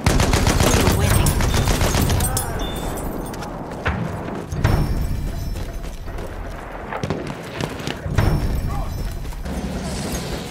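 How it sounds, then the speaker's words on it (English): Enemy machine gun fire in Battlefield 1, sustained automatic bursts amid loud battle noise with occasional heavy impacts, and faint hoofbeats mixed in. "It's an enemy machine gun."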